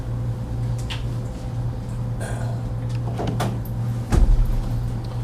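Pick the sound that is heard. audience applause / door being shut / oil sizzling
door being shut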